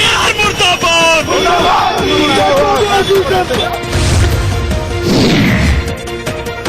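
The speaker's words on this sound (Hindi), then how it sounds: "स्थानीय लोग भड़क गए और पुलिस स्टेशन के बाहर पुलिस से भिड़ गए" A loud, chaotic street clash between an angry crowd and police outside a police station in Nadia, West Bengal, with shouting, yelling voices, bangs and thuds, all dense and continuous.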